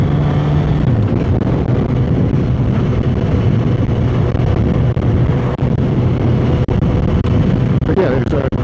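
A Suzuki GSX-S1000 motorcycle on rural roads near a village, heard as a loud, steady engine drone mixed with heavy wind rush, with a rider talking over it.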